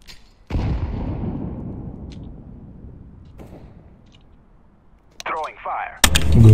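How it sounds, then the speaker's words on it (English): A flashbang grenade detonates in CS:GO on the Dust 2 map, a sharp loud pop followed by a long fading ringing decay, with brief game noises and a burst of sound near the end. "Flashbang."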